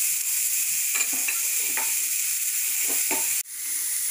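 Baby corn and cauliflower sizzle steadily in a hot pan for a lemon coriander soup, close up, with a few soft scraping stirs and a sharp clatter near the end.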